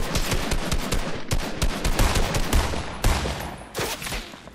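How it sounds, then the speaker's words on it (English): Rapid bursts of sniper and automatic gunfire in a Fortnite match, loud and dense with repeated sharp cracks throughout, a few brief gaps between volleys. "Watch out, sniper again."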